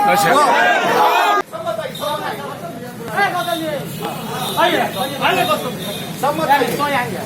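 Crowd chatter at a press conference for someone, a close dense babble of many voices with occasional raised shouts, steady and loud across the whole stretch.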